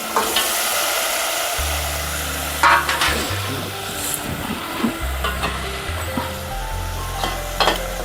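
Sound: boiled mutton stirred into sizzling masala

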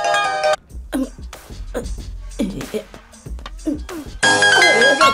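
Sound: loud mobile phone ringtone

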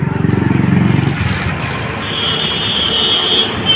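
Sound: train passing

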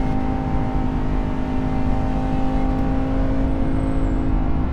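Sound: Lamborghini Huracan Tecnica V10 engine accelerating

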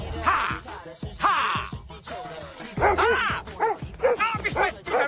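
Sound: dogs barking

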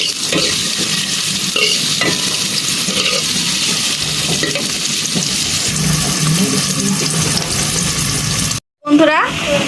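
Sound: onions frying in oil

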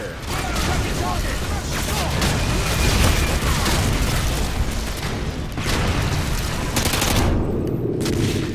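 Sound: mortar shell exploding in Modern Warfare 2 video game

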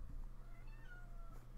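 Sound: cat meowing

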